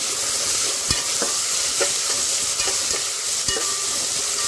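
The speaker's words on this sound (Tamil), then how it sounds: "அடுப்பு ஆன் பண்ணி தேவையான அளவுக்கு எண்ணெய் ஊற்றியாச்சு, வெங்காயமும் போட்டாச்சு" Chopped onions sizzle steadily in hot oil in a pan for a Tamil spinach, ridge gourd and chicken dish. A spoon scrapes and clicks against the pan every second or so, with no talking.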